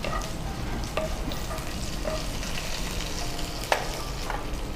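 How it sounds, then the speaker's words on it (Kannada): Cumin seeds and curry leaves fry in hot oil in a home kitchen, a steady dense sizzle with a few soft stirring scrapes, heard alone at close range. "ಜೀರಿಗೆ ಎಣ್ಣೆಯಲ್ಲಿ ನಾವು ಚೆನ್ನಾಗಿ ಕಾಯಿಸ್ಬೇಕಲ್ಲ?"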